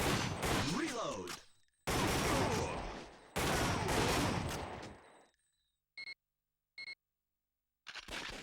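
Gunshots in the PlayStation light-gun game Time Crisis ring out in dense, loud rapid-fire bursts lasting a few seconds each, followed by short electronic beeps and another burst starting after a pause.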